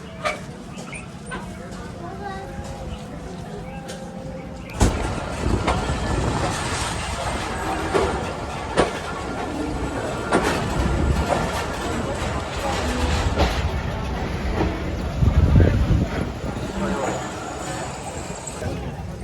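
A passenger train on the Okara to Lahore line begins rolling in heavy rain, a loud low rumble and clatter building after a sudden jolt. Rain patters throughout, a dog barks briefly, and someone talks over the noise.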